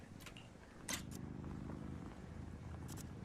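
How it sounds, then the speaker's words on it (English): A tabby cat purrs in a soft, low continuous rumble close by, with a few faint rustles on top. "I can hear it purring."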